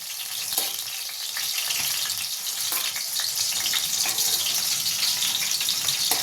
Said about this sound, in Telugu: పచ్చిమిరకాయలు ఇంకా 2 నిమిషాలు ఉంటే ఫ్రై అయిపోతుంది.